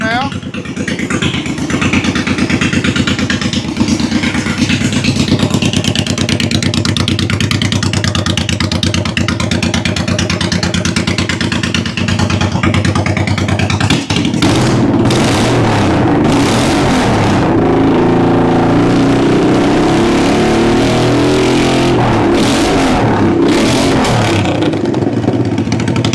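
A Honda VT1100 motorcycle with a fault leaving it running on only one cylinder idles steadily with the choke off, its loud continuous engine drone shifting to a rougher, changing tone about halfway through, with no talk over it.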